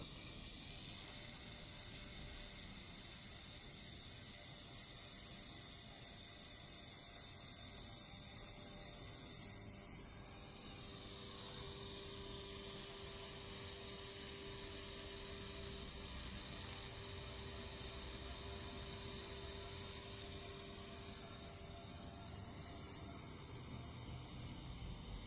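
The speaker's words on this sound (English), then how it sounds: "As you can see here, welding has become easier, cleaner, and faster." A 150W 4-in-1 welder works on metal with a continuous, even hiss that holds steady throughout, faint overall and with no voices.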